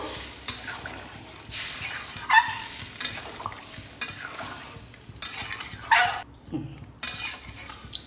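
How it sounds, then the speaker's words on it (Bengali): Chunks of drumstick (moringa) with potato are stirred in a pot after water is added, giving irregular scraping and sloshing strokes over a low sizzle, with scattered clinks of the spoon against the metal and no speech. "এবার আমি এর মধ্যে জল অ্যাড করে দেব। ভালোভাবে জলের সঙ্গে মিশিয়ে নেব।"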